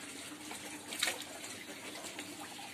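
Catfish pellet feed mixed with water is poured into a fish pond, giving a faint, steady splashing rush of liquid with a brief louder splash partway through.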